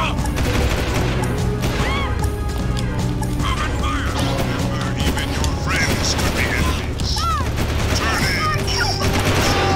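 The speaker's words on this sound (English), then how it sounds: "This guy is shooting at me." Enemy gunfire in the PlayStation 3 game Jak 2, a dense fusillade of cracks and booms over continuous game music and mechanical noise, loud and sustained throughout.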